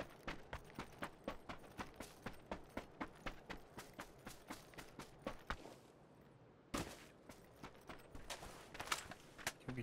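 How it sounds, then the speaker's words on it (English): Footsteps of an enemy player in a video game, a steady run of close, regular thuds that pause briefly midway, then resume with a sharp louder impact and continued steps. "Footsteps."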